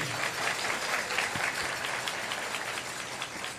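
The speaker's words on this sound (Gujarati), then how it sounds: "અમારા આયોજક સમિતિને એક વખત તાળીઓના નાદથી આપણે વધાવીએ" Sustained applause from a festival audience honoring the organizing committee at a religious gathering, a dense, steady wash of many hands clapping for nearly four seconds with no talk over it.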